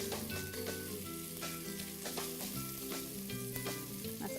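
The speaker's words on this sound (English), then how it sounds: "So even if you like your bacon a little wiggly, you really want to make sure you cook it till it's nice and crisp." Bacon sizzles steadily in a hot pan as it cooks until crisp, a dense continuous crackle with faint tonal hums running underneath and no one speaking.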